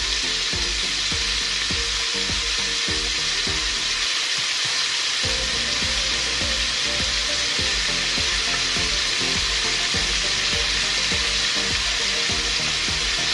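Garlic sizzles and crackles steadily as it fries in a pan, a loud continuous hiss with clinks of a utensil stirring, while mung bean stew is cooked with tomato added, and no voices are heard.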